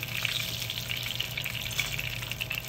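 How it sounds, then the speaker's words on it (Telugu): Onions and curry leaves fry in oil in a pan for a tamarind chutney, giving a steady, close crackling sizzle that stays even and unbroken throughout with no voices. "ఇప్పుడే కొంచెం వేగనియండి"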